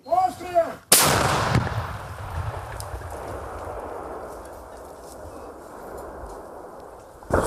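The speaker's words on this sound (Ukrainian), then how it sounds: "І ще один снаряд 125-го калібру на додачу." A heavy 125 mm tank cannon shot booms once, close and powerful, then a long rolling echo fades slowly into quiet.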